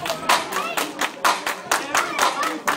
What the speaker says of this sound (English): Let me hear you clap your hand.